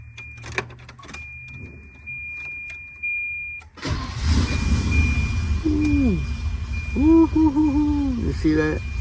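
A 1990 Volvo 240 DL cranks and catches after an ignition switch repair, its engine settling into a steady idle up close, while a voice speaks briefly over the running motor.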